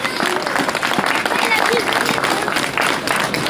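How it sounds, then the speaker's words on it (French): A crowd at a road-race prize ceremony claps for the sixth-place runner, thick sustained applause with a few cheers, loud and close, and voices audible through it. "on l'applaudit"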